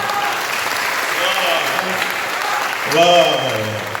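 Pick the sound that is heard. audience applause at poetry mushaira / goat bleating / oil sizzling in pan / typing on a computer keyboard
audience applause at poetry mushaira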